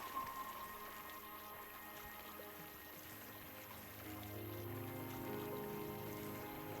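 Rain falling around paddlers on a kayak trip, a faint steady patter and wash that grows slightly fuller toward the end, with no voices.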